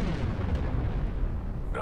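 A missile blows up in midair during a Star Wars Republic Commando battle, a low, dense rumbling roar that fills the whole moment without clear separate blasts, with a brief sharper lift near the end.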